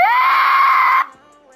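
A person lets out a loud, harsh, drawn-out shriek imitating a pterodactyl scream, held for about a second close to the microphone, then cut off into quiet.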